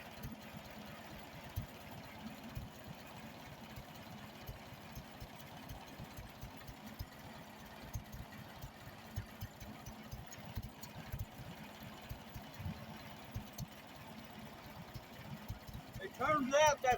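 A Farmall Super A tractor engine idles slowly with a steady low chug after getting a new carburetor. It sounds quiet and somewhat distant, with a louder clatter near the end.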